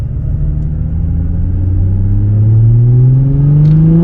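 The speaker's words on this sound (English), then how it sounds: "Gonna give it a couple of pulls so you guys can hear the exhaust." Infiniti G35 with a Tomei exhaust pulling hard past the listener, engine note climbing steadily in pitch as it accelerates, loud and deep with a throaty rumble that peaks near the end.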